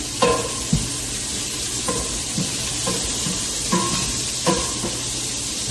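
Food frying and sizzling in a pan with a steady hiss, while a utensil scrapes and stirs in several separate strokes, close and clear.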